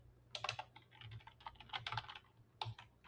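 Someone types on a computer keyboard in quick, uneven bursts of clicks over about three seconds, quiet and close, with a faint low hum underneath and no speech.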